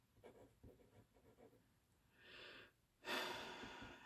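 A pen scratches across paper in short, soft strokes during handwritten Bible study notes, followed by a couple of breathy rustling bursts. The sound is close and faint.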